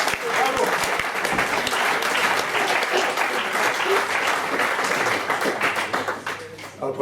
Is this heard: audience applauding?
yes